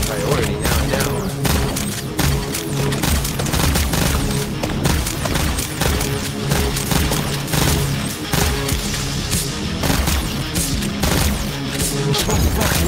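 Dense, continuous gunfire from turrets and weapons in the VR rhythm shooter Pistol Whip, 2089 level on hard mode, with steady loud shots and music-like pulses running throughout, no pauses.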